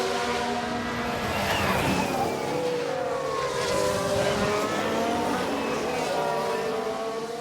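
Ferrari race car engine in the video game F1 Manager 22, 1991 season, a loud sustained high-revving whine with rising and falling pitch as cars pass, mixed with other engines and faint commentary.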